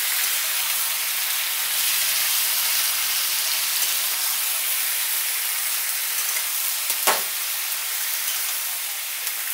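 Tomatoes fry in a pan for tomato pickle, a steady loud hiss and sizzle throughout with one brief sharp clink partway through.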